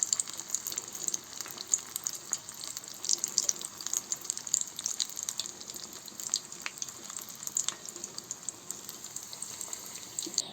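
Batter-coated capelin stuffed with carrot and onion fries in hot oil, a bright, crackling sizzle that pops and spits unevenly over a quiet background for the whole stretch.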